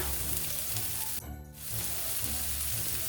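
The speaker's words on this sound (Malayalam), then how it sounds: "ഇതെല്ലാം കൂടെ നമുക്ക് നന്നായിട്ടൊന്ന് വഴറ്റി കൊടുക്കാം" Chopped onion and green chillies sautéing in hot oil with mustard seeds and curry leaves, giving a loud, dense, continuous sizzle that dips briefly midway before resuming.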